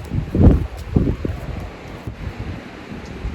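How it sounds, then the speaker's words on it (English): Strong wind gusting ahead of a rainstorm on a farm, buffeting the microphone with loud rushing bursts and leafy rustle, no talking. "it is really windy"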